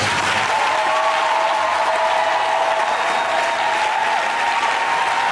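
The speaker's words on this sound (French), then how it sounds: "Est-ce que tu peux acclamer en plus?" A church congregation applauds and cheers, a dense, steady wash of clapping from a large crowd that continues unbroken and fairly loud throughout.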